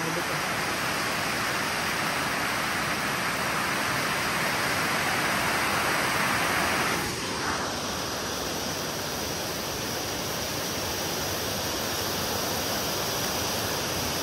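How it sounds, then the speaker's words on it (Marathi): Water rushes below Vashishti Dam in Chiplun, a dense, constant roar of flow that holds steady and loud throughout with no breaks. "तुम्हाला खालतून पाणी दाखवतो"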